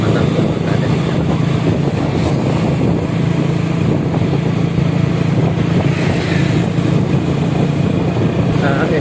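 Honda Supra X motorcycle on a long road trip, steady loud engine drone and heavy wind buffeting the microphone throughout, continuous with no breaks.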